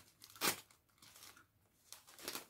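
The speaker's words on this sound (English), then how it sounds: "let me quickly grab a scissor, because I just want to open two of these packets" Scissors cut open plastic yarn packets close up, giving two or three sharp crinkling snips of plastic separated by quiet pauses.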